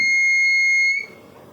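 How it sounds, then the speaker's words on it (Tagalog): A homemade light-beam and laser security alarm sounds a loud, steady electronic buzzer tone for about a second, then cuts off abruptly, leaving faint room noise. "Ayan, kaya naging security alarm siya."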